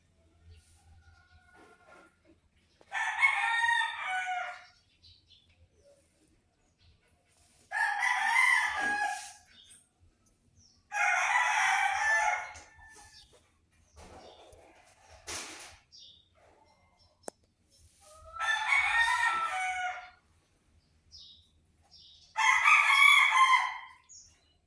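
Pet chickens in a backyard crow loudly five or six times, each crow a separate burst of a few seconds set apart by quiet gaps, with faint clucking and low background noise between them.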